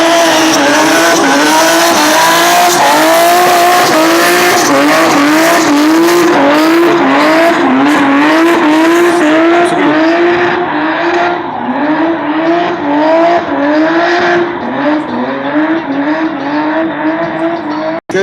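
Drift cars do burnouts with loud, wavering tire squeal over a revving engine, sustained and close, easing off toward the end.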